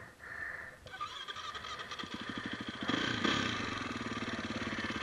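A snow bike engine near Wawa, Ontario, runs close by: a short whine, then a mid-pitched putter that steadies into a rhythmic idle and rises slightly as the bike is put into first gear, with no talk.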